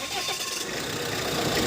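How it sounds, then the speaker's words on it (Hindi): A Tata Harrier engine running at the front of the car, a steady, loud broadband rumble with dense mechanical noise throughout and no clear pauses. "देखिए दोस्तों इसमें इंजन साइड आवाज़ आ रही है"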